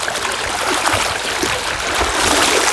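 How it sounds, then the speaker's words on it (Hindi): Fast-flowing water rushes in a continuous broadband roar, steady and close, with no voices over it. "बहुत ही भयंकर पानी स्टार्ट हो गया यहाँ से"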